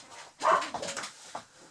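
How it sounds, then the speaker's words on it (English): A single dog bark sounds close by, followed by a short whimper and a softer yip, all brief and fairly loud against a quiet room. "What are you barking at?"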